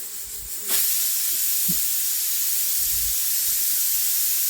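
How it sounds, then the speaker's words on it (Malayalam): A pressure cooker vents steam in a loud, continuous hiss that starts abruptly and holds steady, with faint kitchen knocks underneath. "അങ്ങനെ 2 വിസിലൊക്കെ അടിച്ച്"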